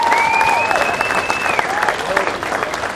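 Audience applause for Sterling Marlin, two-time Daytona 500 champion, at a Legends of NASCAR Dash event at Castrol Raceway: steady, dense clapping from a crowd throughout. A high, sliding whistle-like tone runs through the first half.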